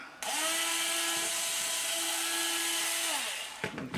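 A close, loud drill whine with a 1/16 inch bit runs for about three seconds through a 380 quad frame, pitch dipping slightly mid-cut, before the motor winds down into a few handling clatters.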